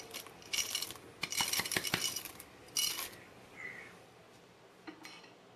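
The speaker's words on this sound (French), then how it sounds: "Rajoutez maintenant les pépites de chocolat." Chocolate chips tipped into apple cake batter in a bowl, a quiet scattered patter of small clicks and clinks against the bowl in a few bursts, then fading to near silence.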